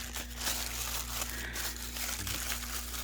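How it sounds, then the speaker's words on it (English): Tissue paper from an unboxing crumpled and crinkled by hand, a steady close rustle running through the whole stretch with no voices. "Tissue paper."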